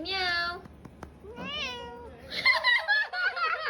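A house cat meows three times, up close and loud: a long drawn meow, then a shorter one, then a rapid string of wavering, chattering cries at the end.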